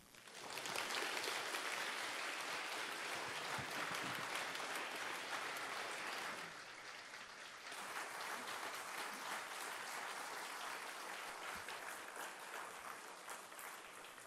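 Church congregation applauding during a Sunday worship service, a sustained dense clapping that carries on alone, dipping slightly midway and then continuing.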